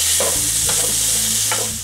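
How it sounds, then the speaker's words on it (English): Onion and bacon browning in a pan for meatloaf cupcakes, with a loud, close steady sizzle and a few scraping strokes of a stirring utensil, and no voices. "Now I just keep stirring these for about 4 to 5 minutes, just until the onion and bacon are completely browned up"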